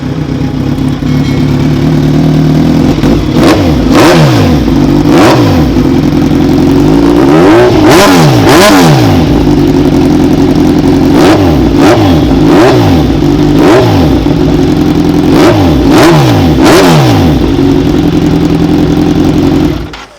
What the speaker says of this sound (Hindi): Guys Ninja 1000 talking about the full system exhaust. चलिए let's fire this thing up.